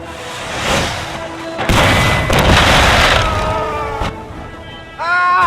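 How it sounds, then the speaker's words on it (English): Cannons fire on enemy units in the Napoleon: Total War strategy game, giving several heavy booms and crashing impacts that swell and fade, with a brief bright tonal sound at the end. "Keep up the pressure by firing your cannons at the enemy."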